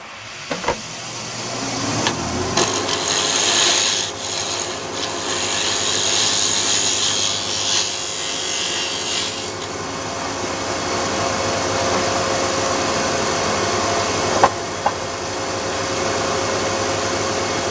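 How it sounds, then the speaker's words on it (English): A bowl gouge faces off a wood blank for a candle ornament on a spinning lathe, giving a steady close scraping hiss with a constant motor hum beneath, a brief heavier cut near the start and a sharp tick late on. "So I'll take a bowl gouge and we'll just put we'll face it off."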